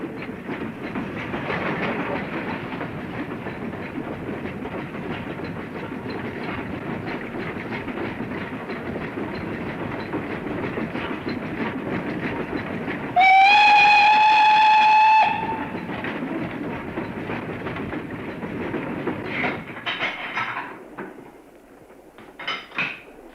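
A train runs along a single-track Great Western branch line with a steady rumble and clickety-clack of wheels, broken by a loud two-tone whistle for a couple of seconds before the running noise returns and fades.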